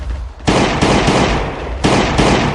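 Gunfire in the mobile survival game Last Day on Earth: Survival, loud and close, with a continuous rapid burst of shots that surges again partway through, with no clear talk over it.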